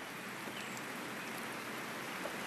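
Even, continuous patter of rain, a soft steady hiss with no talking.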